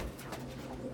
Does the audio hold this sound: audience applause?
no